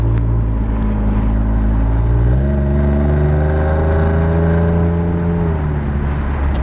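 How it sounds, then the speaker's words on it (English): Close, loud exhaust drone from a Ford F-150 Raptor running an aFe 3-inch stainless cat-back with dual side-exit tips, heard with the windows down: a steady rumble that shifts pitch partway through, then holds a deep even note, with no one talking. "Obviously, it's a lot louder with the windows down."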